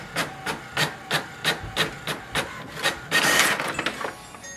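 An HP Envy 6055e printer printing a page, producing a regular train of sharp mechanical clacks about twice a second, close and loud, ending in a brief louder whirring rush as the sheet feeds out.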